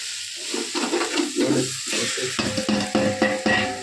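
Tomatoes added to a sizzling pan and stirred, with close, loud frying hiss and the scrape and clatter of a spoon against the pan in uneven strokes.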